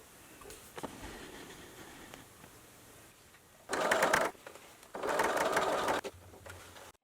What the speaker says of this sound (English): I'm going to try to sew as close to the lines that I've already made as I possibly can.